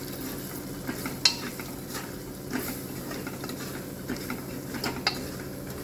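Chili powder and masala sizzle quietly in a hot pan as they are stirred for khichdi. Soft, steady frying hiss with occasional light scrapes and clinks of the spoon, and no talking.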